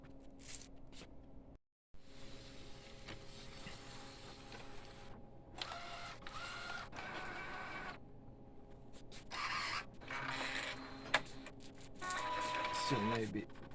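An Epson L1800 DTF printer under repair runs its ink pump and mechanism, giving a quiet whirring and clicking hum with intermittent louder mechanical bursts and a brief pause near the start.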